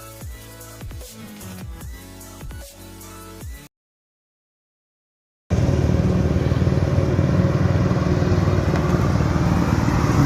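Royal Enfield Classic 350 motorcycle ridden on a road near Haridwar, its engine and wind rush loud and steady after a stretch of music and a short silence.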